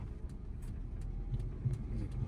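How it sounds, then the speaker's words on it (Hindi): A car rolls slowly to a stop with the clutch fully pressed during a beginner driving lesson, giving a steady low engine rumble and road noise close by with no voices. "गाड़ी धीरे धीरे रुक रही है।"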